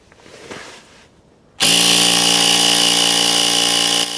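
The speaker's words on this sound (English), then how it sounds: "I'm now going to inflate the tire and test the repair." Electric air compressor switches on abruptly after faint background rustling and runs with a loud steady buzzing hum as it inflates a puncture-repaired car tire.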